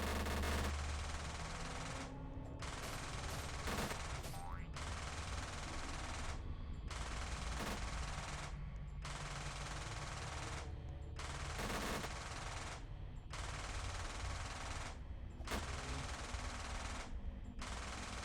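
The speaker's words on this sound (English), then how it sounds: "you can combine it with the Tommy gun" A Tommy gun firing in a video game: repeated rapid automatic bursts in a regular pattern every couple of seconds, fairly quiet overall, with no talking.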